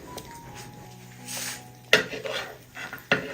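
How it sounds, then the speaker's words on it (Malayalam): Payasam with lotus seeds, roasted cashews and raisins stirred in a metal pan: a few close spoon scrapes and clinks against the pan, with a soft sizzle in between. "ഒന്ന് ഇളക്കി കൊടുക്കാം."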